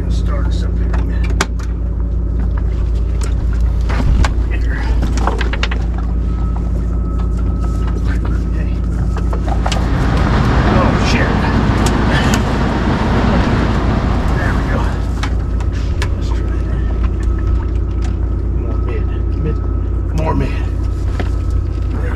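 A boat engine idles and runs steadily close by on the Arkansas River near Muskogee, Oklahoma, a low continuous rumble with clanks and movement on board and voices talking now and then.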